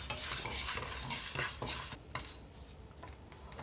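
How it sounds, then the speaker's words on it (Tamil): Half a cup of fenugreek seeds dry roasting in a pan on a stovetop, a close, steady scraping and rattling stir with a faint sizzle that thins out partway through. "ஸ்டவ் ஆன் பண்ணி ஒரு பேனில் இந்த 1/2 கப்பு வெந்தயத்தை வந்து நல்லா வறுத்து எடுத்துக்கலாம்."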